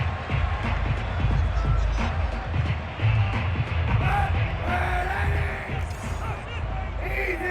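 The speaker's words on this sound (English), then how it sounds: "Plenty of shouts from this crowd as they watch the replay." A Madden 22 football stadium crowd yells and bellows during a replay, a loud roaring wall of shouting voices with whoops rising over it and a commentator-like voice briefly cutting through.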